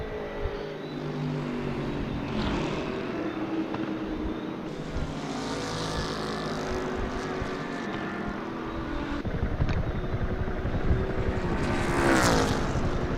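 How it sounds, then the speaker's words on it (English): A Bentley GT3 race car with a 5-litre twin-turbo V8 at Daytona International Speedway, its engine droning steadily with rising and falling pitch as it passes, building louder toward the end. "Loud twin turbo there from the V8."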